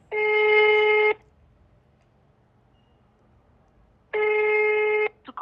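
A telephone ring tone, two loud electronic ring bursts about a second long separated by three seconds of near silence, followed by a brief clicking at the end.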